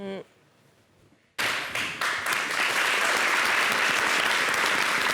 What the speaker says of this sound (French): les hommes applaudissent